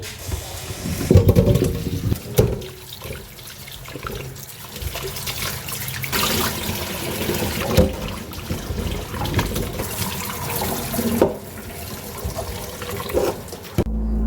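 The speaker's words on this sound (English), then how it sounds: "now we are going to immerse the yams in water" Water runs steadily from a tap into a pot of yams, a continuous splashing and gurgling with a few clunks and knocks along the way.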